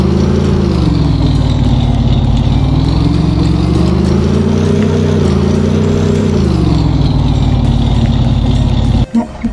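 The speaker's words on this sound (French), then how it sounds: "Prochain véhicule, c'est le go-kart." Go-kart engine from a Minecraft vehicle mod, a steady buzzing small-engine drone whose pitch rises and falls gently while driving, loud and continuous, cutting off abruptly near the end.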